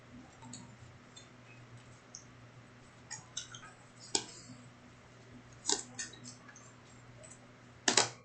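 Board game cards for a Lord of the Rings: Journeys in Middle-Earth tabletop session get shuffled at the table, a soft riffle of scattered clicks and ticks that come in uneven bursts and build toward a few sharper snaps, with no talking.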